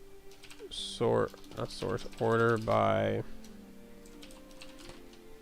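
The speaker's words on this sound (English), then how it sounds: "I'm having a tough time typing right now" Computer keyboard typing during live coding of a Golang data collector, with bursts of key clicks running under a man's close speech.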